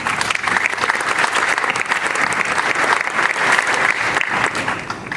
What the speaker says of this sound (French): Vraiment, il n'y a pas besoin de m'applaudir pour ça.